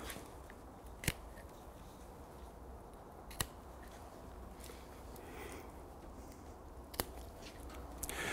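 A pruning blade snips through the stems of a standard rose bush, three or four sharp isolated cuts spaced seconds apart over quiet outdoor background.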